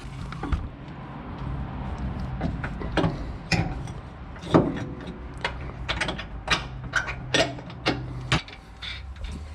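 Bolts being tightened on a Suzuki Vitara trailing arm with a rose joint at the front, heard as a close series of sharp ratchet clicks and metallic taps in irregular bursts.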